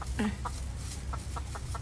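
A chicken clucks nearby in short, separate bursts, a squawk followed by several soft, evenly spaced clucks over faint outdoor background noise.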